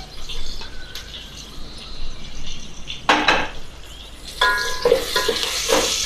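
Green chillies sizzling and frying in a pan with oil and onions, a steady crackle punctuated by loud utensil stirring and scraping against the pan, close and without talk.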